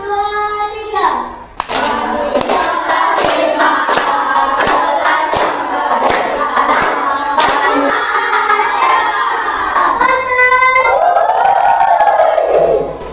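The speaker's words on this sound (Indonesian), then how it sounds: "Oke, tepuk tangan untuk kita semua." A primary school class in Indonesia claps hands in rhythmic bursts during a group chant, with children's voices shouting along; loud, close and continuous throughout.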